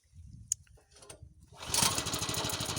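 A gasoline tilling machine used to plough a field sputters with low uneven putters, then catches and roars into a loud steady close engine run.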